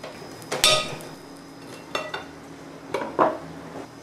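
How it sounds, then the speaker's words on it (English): A knife chopping six bacon strips into small pieces on a board, several sharp separate knocks and clatters spaced out over quiet kitchen background. "we're going to want to cut these strips of bacon, 6 of them in all, into little itty-bitty pieces."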